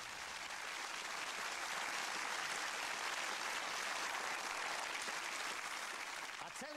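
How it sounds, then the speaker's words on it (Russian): Steady, dense applause from a television quiz-show studio audience, sustained and evenly loud throughout with no voices over it. "Аплодисменты."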